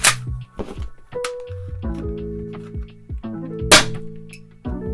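Wolf .68 caliber paintball shotgun fired in a sequence of sharp cracking shots, loud and close, with clinks and mechanical clacks between them and tonal ringing hums running under the shots.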